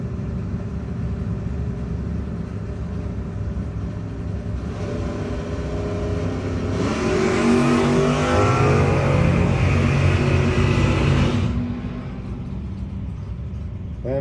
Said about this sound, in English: Her Camaro chasing down the Nova of McMillan.